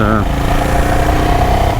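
A motorcycle engine idles steadily and loudly up close, its low rumble continuous throughout.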